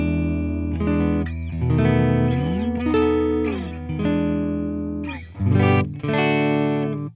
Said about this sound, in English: Right, here's the clean tone.